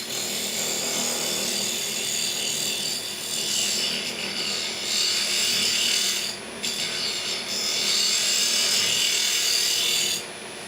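A woodturning tool takes slight cuts on a spinning lathe, giving a steady, bright hissing scrape that runs almost without pause, with brief dips where the tool lifts from the wood.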